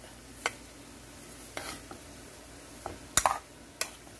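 Seasoning is mixed into sliced roast beef for Philly cheese steak, with a few scattered clinks and scrapes of a utensil against the bowl over a quiet background.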